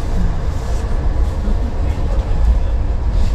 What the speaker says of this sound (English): First-class train. The train ride is 7 hours, and it's cozy.